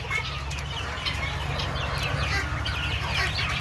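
A flock of Tiger and Fayoumi chickens clucks steadily while being fed, many birds murmuring together at close range over a constant low background rumble.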